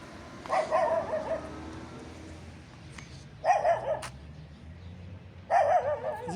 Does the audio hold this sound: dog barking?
yes